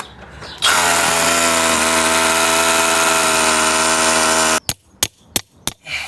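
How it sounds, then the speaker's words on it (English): A hammer drill runs steadily for several seconds while driving an earth electrode into sandy ground, loud and close with a constant hammering whine, then stops and gives a few short bursts. "I'll get the hammer drill out then."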